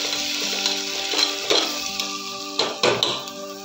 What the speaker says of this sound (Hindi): धनिया पाउडर, थोड़ा सा गरम मसाला, और अब इसको हम चलाएंगे।